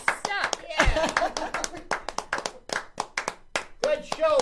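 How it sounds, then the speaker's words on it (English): Scattered hand claps from an audience cheering for Brian, uneven and close, mixed with people talking and laughing over them. "Let's stand up and give a round of applause for Brian."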